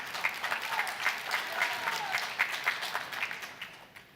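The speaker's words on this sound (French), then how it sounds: "On applaudit, mais ils sont vides pareil" Congregation in a church hall breaking into steady applause, a moderately distant, evenly spread patter of many hands with no voices on top.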